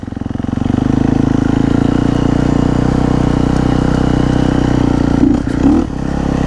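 A motorcycle with hydraulic clutches idles steadily while warming up, a low even rumble holding close and loud, with a brief clattering blip near the end.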